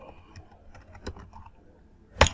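Sparse, quiet taps on a computer keyboard, a few separate keystrokes ending in one louder clack.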